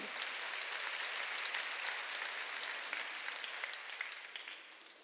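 A church congregation applauds through a Sunday worship service, a steady wash of many hands clapping that fills the space and tapers slightly toward the end, with no voices over it.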